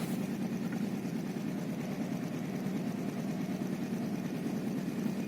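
A Daewoo Lanos 1.5 engine idles with a steady, slightly uneven low rumble after starting up from six months of sitting unused, heard alone without talking.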